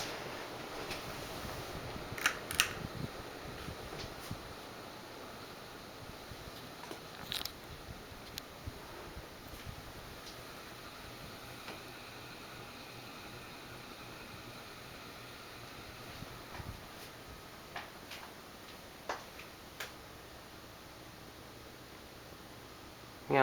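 A 1989 SMC Laguna 36-inch ceiling fan runs at medium speed, giving a faint, steady airy hum with occasional soft ticks and clicks throughout.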